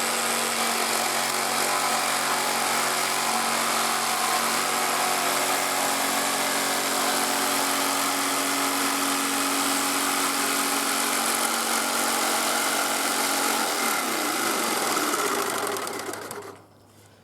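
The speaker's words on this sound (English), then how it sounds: "When you start the jigsaw, just remember to keep the blade away from the wood." Jigsaw cutting wood on a bench hook, a steady loud motor buzz with rapid reciprocating blade chatter running continuously for about fifteen seconds before stopping abruptly.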